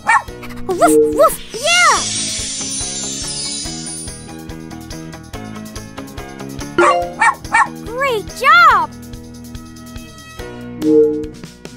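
Cartoon puppies barking in a Super Why puppy day care game, several bright yips and woofs in short bursts over music, with voices speaking between them.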